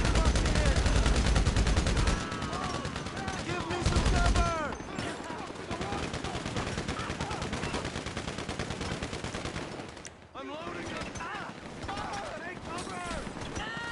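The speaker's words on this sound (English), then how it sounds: "they're using their 50 cals on us from like what feels like a country mile away" Heavy .50-caliber machine gun fire from chase units in GTA Online, steady dense rattling bursts that run almost the whole time amid engine and game noise, with someone talking over it.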